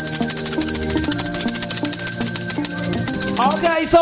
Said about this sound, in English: Mayawa, let's go with the bell again.